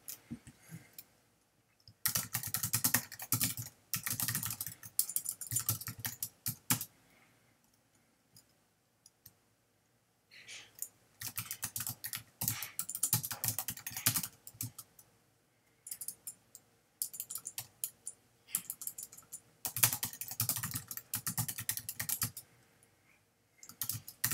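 Computer keyboard typing in several long bursts of rapid clicking keys, close and clear, separated by quiet pauses.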